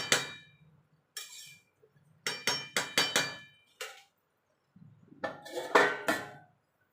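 Metal pot and lid clinking and clattering in a kitchen while basmati pulao cooks, a series of sharp close knocks and rattles in short bursts separated by quiet gaps.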